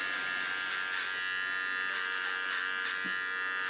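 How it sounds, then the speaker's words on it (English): An electric hair clipper cuts hair over a comb while styling a short straight bob, giving a steady close buzz with slight variations in pitch as it passes through the hair. "clipper over comb."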